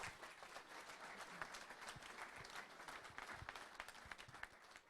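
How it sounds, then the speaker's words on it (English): An audience applauds at a pitch event in Wichita, sustained clapping at a steady, moderately distant level for the whole stretch, with no voices over it. "Let's give him a round of applause."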